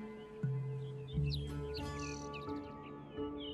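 Migratory birds chirp and tweet in a windswept desert nesting ground, short bright calls scattered over a steady low drone, with no voices.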